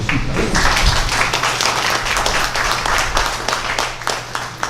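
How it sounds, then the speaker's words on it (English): Town hall meeting audience applauds its health director, a dense, steady burst of many hands clapping at close range that fills the whole stretch with little letup. "Let's give our director a round of applause, Anita Folks."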